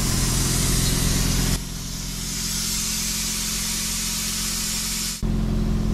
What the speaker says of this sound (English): So they'll get just cleaned off with a bit of air now and sprayed with some high temp VHT clear, satin clear,